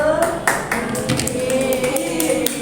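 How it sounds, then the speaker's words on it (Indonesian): Applause from a middle school classroom for a student, a dense run of sharp claps sounding close and fairly loud, with a faint tone lingering underneath. "Beri tepuk tangan untuk Mbak Angel"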